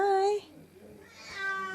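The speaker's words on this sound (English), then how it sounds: "Oh, and that's my other cat." A pet cat gives a clear, fairly loud meow, then a second drawn-out meow follows after a short quiet gap, both close by indoors.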